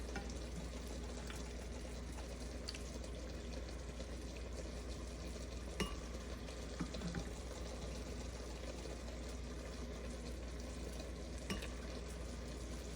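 Steady, quiet sizzling of ground meat browning in a pan, with a few faint scrapes and clicks of a utensil, no voices.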